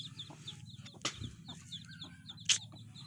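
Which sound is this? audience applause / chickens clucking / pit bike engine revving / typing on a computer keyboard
chickens clucking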